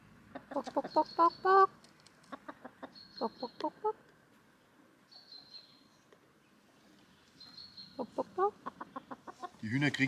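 Backyard chickens cluck repeatedly in short, rhythmic bursts near the microphone, with soft chirpy calls in between and a brief rustle or voice at the very end.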